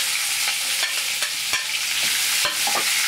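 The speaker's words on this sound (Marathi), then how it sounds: "आता कांदा परतून घेऊयात" Onion with curry leaves sautéing in a pan for a spicy brinjal dish, a steady broadband sizzle with repeated sharp scrapes of a stirring spoon, close and alone.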